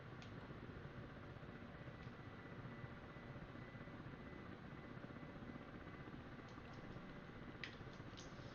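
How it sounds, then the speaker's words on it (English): A simulated helicopter hums and whirs steadily at low volume, a continuous broadband drone with faint ticks scattered over it, and nobody speaks. "Come on, helicopter, go forwards."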